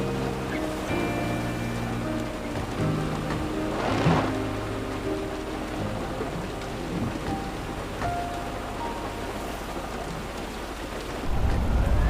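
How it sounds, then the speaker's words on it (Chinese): Steady rain falls throughout, a dense continuous hiss with a low rumble like distant thunder, loud and unbroken, with a heavier surge near the end. "下雨影响视线"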